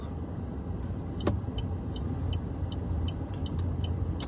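Slow-moving cars in a French traffic jam give a steady low road rumble with faint passing-vehicle swells and a few light clicks, heard inside a car with no talking.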